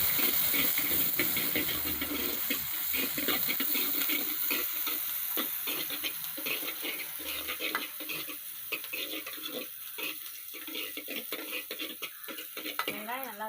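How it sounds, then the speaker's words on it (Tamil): Chopped onions fry in a pan for egg gravy, giving a steady, close sizzle that runs throughout, with a spoon scraping and stirring and light clinks against the pan. "இப்போ நான் வெங்காயத்தை சேர்த்துக்கிறேன்."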